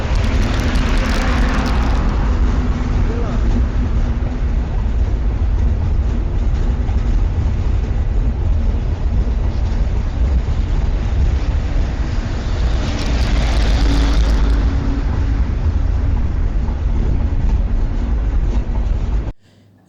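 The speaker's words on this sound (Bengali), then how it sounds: "যমুনা সেতুর উপর দিয়ে কচ্ছপের গতিতে ছুটে চলেছে আমাদের ট্রেন" A passenger train crossing the Jamuna Bridge at slow speed, heard as a loud, continuous low rumble and rolling drone of wheels and carriages, steady for the whole span with no talk.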